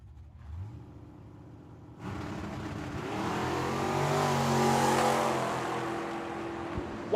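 A Z06 Corvette and a Camaro drag racing at Tucson Dragway: low idle rumble, then engines jump to a loud sustained roar that builds and holds, close by, with no talk.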